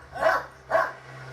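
Police search dog barking twice during a search for a hidden person, two distinct loud barks about half a second apart, close by, with a low steady hum underneath.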